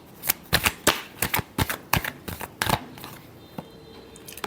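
Tarot cards being shuffled by hand, a rapid series of crisp riffling snaps in quick bursts, close and clear, that thin out into a few scattered flicks near the end.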